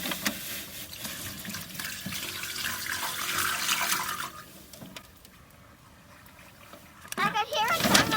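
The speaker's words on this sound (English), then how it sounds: "Luca, did you hear the water come out?" Water flows steadily through an off-grid gray water pipe into a barrel, a continuous rushing hiss that thins midway and picks up again, with children's and adults' voices talking over it near the end.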